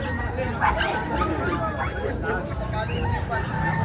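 Dogs yip, whimper and bark amid a busy crowd at a pet market in Bocaue, with people talking throughout the noisy babble.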